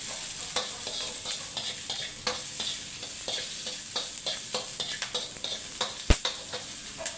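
Dried chilies being dry-roasted in a pan, with a close, continuous scratchy stir and dry crackle, punctuated by irregular sharp scrapes and clicks of the utensil against the pan, no speech.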